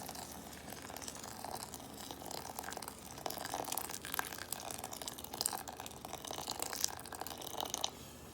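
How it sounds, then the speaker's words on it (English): Boiling water is poured over a multigrain soaker for orange multigrain bread, a faint, steady liquid trickle with light crinkling, continuous for several seconds with no speech. "And then you cover that with 12 ounces of boiling water."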